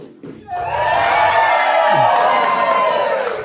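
A live studio audience cheers and whoops in a dense, sustained roar that swells in within half a second and holds steady, loud and close, with a few shouts rising above it.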